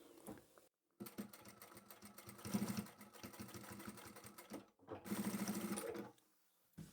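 Sewing machine stitching a plain fabric zippered pouch in steady, rapid mechanical runs, close and clear, stopping briefly and restarting twice.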